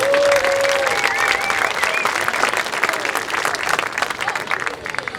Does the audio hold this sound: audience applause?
yes